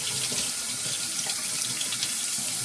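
Tap water runs steadily from a faucet into a sink for a rinse after a wet shave, a continuous close splashing hiss with no pauses and no voices.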